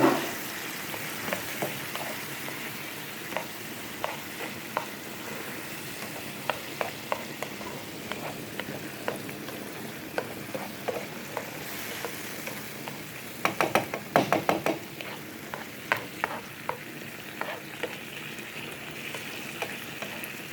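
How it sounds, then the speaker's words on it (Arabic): Eggplant zaalouk frying in a pan sizzles steadily while being stirred, with repeated scraping taps of the spoon against the pan and a brief flurry of quick clicks midway. "صافي نبقاو نحركو هكا"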